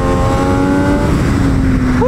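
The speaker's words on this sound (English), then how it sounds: "The engine feels so much stronger than my race bike." Engine of an Italian superbike, a Ducati Panigale V2 or MV Agusta F3 800 RC, revving steadily with a rising, whining tone, loud and close throughout, ending in a quick upward sweep as it accelerates.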